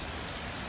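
Steady rain falls in the Sochi Dendrarium park as an even, hissing wash with no pauses, close and moderately loud, with no voices over it.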